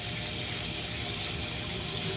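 A hotel bathroom tap in a casino suite runs steadily, a close, even rush of water with a faint hollow splash in the sink, unbroken and alone for a couple of seconds.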